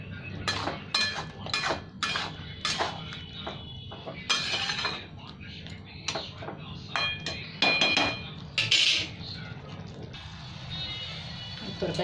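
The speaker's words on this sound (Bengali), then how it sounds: "ভালো করে নেড়ে দিয়ে ঢাকা দেবো" Mushroom and potato curry stirred in a pan, with repeated metallic scrapes and clinks of a spoon against the cookware in an irregular rhythm, close and clear, under intermittent talk.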